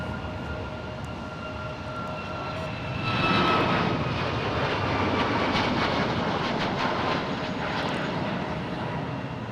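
An airplane departing San Jose Airport roars with a broad, steady jet rumble that swells midway and holds, heard from a distance and continuous throughout.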